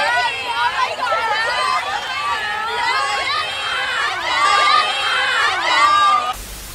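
Crowd of excited fans in a Jujutsu Kaisen anime scene, many overlapping voices shouting and cheering loudly and continuously, ending abruptly.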